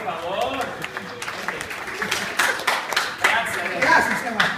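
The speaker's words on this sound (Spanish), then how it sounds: "Muy bien, un aplauso" Audience clapping fills a lecture hall, a dense patter of hands with crowd voices mixed in, steady and moderately loud throughout.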